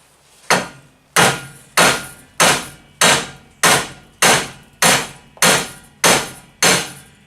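Ten sharp metallic hammer blows on a lower ball joint of a 2005 GMC Sierra 1500 4x4, at a steady, unhurried rhythm, each ringing briefly, loud and close with no talking.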